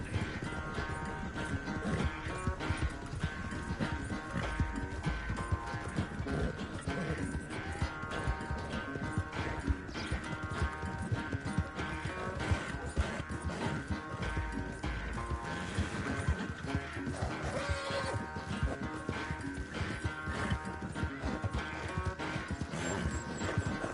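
Galloping horse hooves in a Red Dead video game race, a fast, steady clip-clop rhythm running continuously under music and game sounds, fairly loud and close throughout with no talking.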